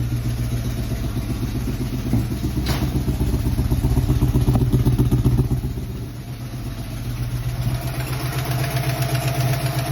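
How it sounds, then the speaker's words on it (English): A Ford Foxbody Mustang V8 hot rod engine idles close by with a steady, slightly uneven rumble and a fast mechanical clatter, dipping briefly before settling again. "It's backfiring for sure, but it idles way better."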